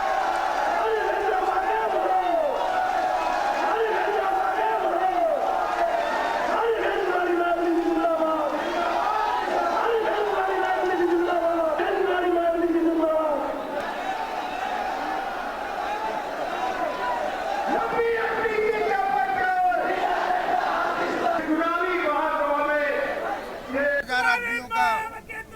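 Huge crowd at a BSP rally for Mayawati in Kanpur, a dense roar of many voices with cheers, whoops and chanting throughout, loud and close, with a few sharper shouts near the end.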